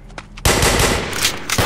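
Automatic gunfire from an online multiplayer shooter bursts in suddenly and loudly after a quiet moment, a dense rapid rattle of shots up close.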